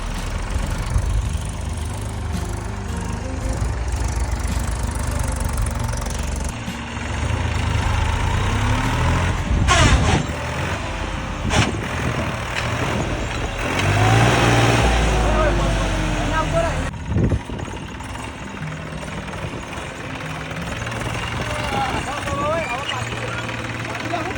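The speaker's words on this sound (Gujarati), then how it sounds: "હવે ટ્રેક્ટર ઊંચું કરશે" A tractor engine rumbles steadily nearby, rising and falling slightly in pitch, with people talking over it.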